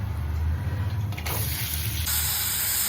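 Oil and fenugreek seeds sizzle in a hot clay pot, a loud, close, continuous hissing crackle that shifts in tone midway and keeps going without talk.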